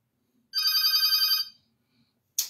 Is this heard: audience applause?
no